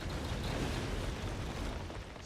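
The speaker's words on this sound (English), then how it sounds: "Explosion noise!" A video game explosion set off among a crowd of tourists during a driving game, rendered as a sustained, loud broadband rumble and roar that fills the whole moment evenly with no voices over it.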